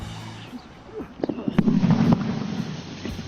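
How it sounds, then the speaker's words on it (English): A grenade thrown into a pit during military training bursts with a dull, muffled boom, followed by scattered pops and a short rumble as people talk quietly nearby. "one of the players throws a grenade into the pit, and then all participants lie face down on the ground waiting for the explosion"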